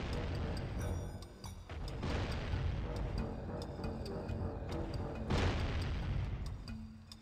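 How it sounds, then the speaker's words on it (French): Bursts of gunfire and booming explosions hit the player in the Jak and Daxter video game, arriving as sharp repeated blasts and heavier thuds across the stretch, with a quiet voice speaking between them. "Ça me tire dessus d'où là?"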